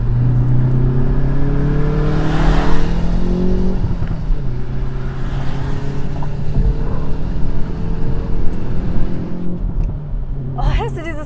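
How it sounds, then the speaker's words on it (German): A Hyundai i30N Performance with 300 PS accelerates hard, its engine droning steadily and the exhaust crackling and popping. People talk over the engine noise for most of the stretch. "hörst du dieses Knattern hinten raus? Das ist so cool."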